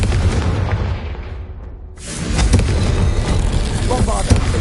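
A Confringo blasting curse explodes in Hogwarts Legacy, a loud booming burst that cuts in sharply after a brief hush and rumbles on amid game noise and a speaking voice.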